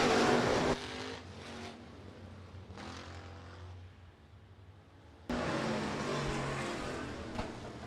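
Hobby stock race cars at Rapid Speedway during a heat race, engines roaring loudly as they pass close, then fading into the distance before another loud pack of cars sweeps by.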